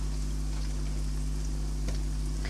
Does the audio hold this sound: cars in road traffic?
no